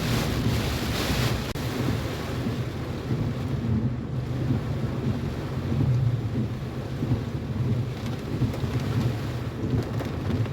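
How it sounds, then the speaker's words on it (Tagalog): Strong typhoon rain and gusting wind in Lapu-Lapu City batter a vehicle, a steady, loud roar of downpour and wind buffeting with no pauses and no voices. "malakas na yung ulan mga sama. At saka hangin."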